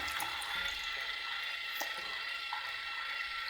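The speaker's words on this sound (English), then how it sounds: "And without funnel, you can pour it in the middle like this." Photo developer chemical pours without a funnel into an AGO film processor: a continuous close hiss of running liquid with faint trickles and splashes, steady throughout and with no talk.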